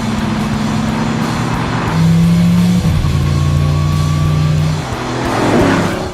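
Mercedes-AMG GT S engine and exhaust revving, a loud close-up roar whose pitch holds and then steps at shifts, with a brief thin whine and rising rush near the end.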